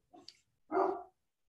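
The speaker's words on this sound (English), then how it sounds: "my dogs are barking" Two quick dog barks at a distance, a short higher yip followed by a fuller bark, with nothing else around them.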